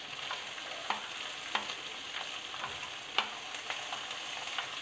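Green chili, chopped garlic and coriander leaves fry in a pan with oil, giving a steady close sizzle with a few soft clicks of stirring, alone without talk.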